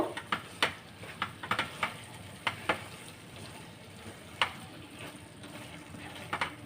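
Grated carrot halwa cooking down in a pan with saffron and milk, the remaining water evaporating in a low steady sizzle broken by occasional sharp ticks and pops, close and quiet with no talk.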